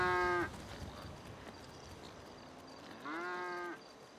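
A cow in the video game GTA moos twice, each call a drawn-out tonal low with a pause between, moderately loud over a faint steady game background with no talking.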